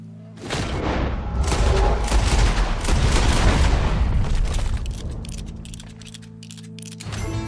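Red Dead Redemption 2 stranger mission: a loud booming gunshot followed by several seconds of heavy rumbling and scattered blasts that gradually fade, ending with a sharp click-like tail.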